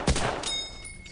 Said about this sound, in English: I just had to shoot off all the bullets to reload.